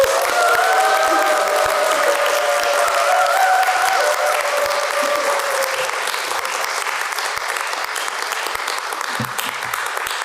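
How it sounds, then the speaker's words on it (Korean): Church congregation at Santa Clara United Methodist Church applauding loudly and steadily to welcome a guest pastor at a New Year revival service, dense sustained clapping with some cheering and whoops throughout. "큰 소리와 그리고 큰 박수로 우리 강사 목사님을 우리 맞이하도록 하겠습니다"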